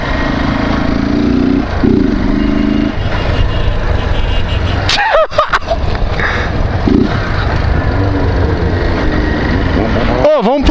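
A Honda CG 150 motorcycle engine runs loud and close with a rough, uneven exhaust note and sharp revving bursts, with a voice talking briefly over it.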